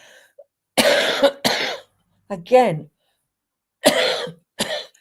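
A person coughs several times in short, harsh bursts, close up, with quiet pauses in between and a brief spoken word mixed in.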